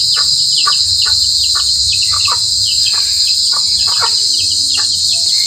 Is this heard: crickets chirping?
yes